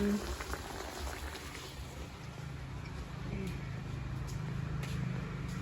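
Eggplant simmering in a pot for a Thai home meal, a steady low bubbling churn of boiling water held throughout, fairly faint, with soft background voices now and then.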